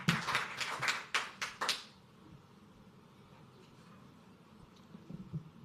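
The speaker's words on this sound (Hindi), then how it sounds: "जोरदार तालियों के बीच में नीरज भाई ऑन स्टेज" Several people clap as the poet Neeraj comes on stage at a Mumbai ghazal and shayari gathering: about eight sharp, distinct claps over two seconds, then the room falls to a quiet hush.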